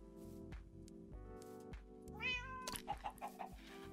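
A cat meows in Minecraft, a rising squeaky call followed by a quick series of short chirpy meows, sounding over a blocky game soundtrack of steady tones and thumps.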